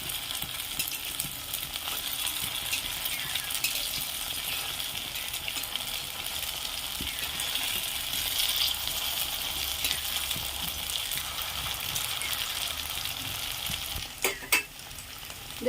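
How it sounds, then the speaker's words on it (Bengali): Chhana (cottage cheese) fritters frying in oil, a continuous close sizzle with occasional stirring and turning clinks, a couple of sharper utensil knocks near the end, and no talking. "এরকম লাল করে আমি বড়াটা ভেজে নেব।"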